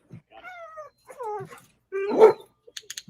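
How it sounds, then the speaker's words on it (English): A dog that has become confused at a fence gives high, wavering whines and whimpers that rise into a short bark, followed by a few quick, sharp clicks. "So he gets confused and barks."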